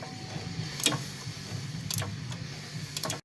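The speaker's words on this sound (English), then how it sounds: "15 millimeter ratchet wrench works very, very well" A 15 mm ratchet wrench works a tight rear motor mount bolt on a 2014 Jeep Patriot, giving a few faint, sharp clicks spaced about a second apart over a quiet background.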